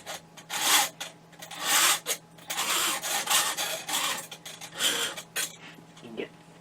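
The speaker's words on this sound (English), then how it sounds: "So I want to take this file." A hand file rasps back and forth across the metal of a hard disk drive case, producing close, gritty scraping strokes in an uneven rhythm of repeated bursts.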